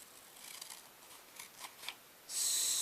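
Scissors trim material to fit into a case, with a series of soft, close snips and rustles, followed by a louder, steady hiss near the end.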